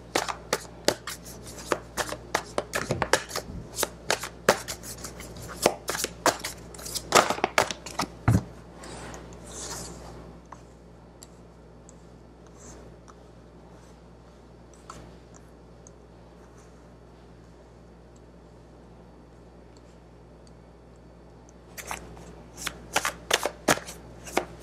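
Large tarot cards shuffled by hand in bursts of dense, crisp riffling and flicking, loud and close, then a long quiet pause before another flurry of shuffling near the end.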